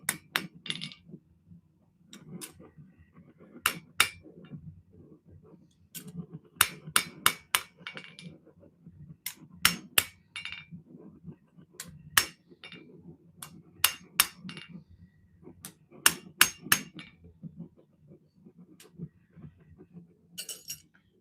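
A light hammer taps metal to burnish off roughness, giving sharp ringing clinks in irregular bursts and clusters, sometimes a few quick strikes, sometimes single hits, close and alone over a low workshop hum.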